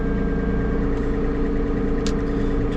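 Tractor engine running at raised idle to build air pressure, a loud, steady low rumble with a regular throbbing pulse, close and unchanging, with faint brief hisses of air over the drone.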